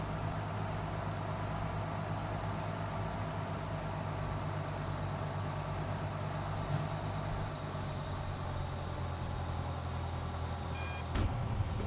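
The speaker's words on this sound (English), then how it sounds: "Nice, stall warning kicked in there." A Cessna stall warning sounds in a flight simulator game as a brief electronic beeping near the end, heard over a steady, loud wash of engine and wind noise.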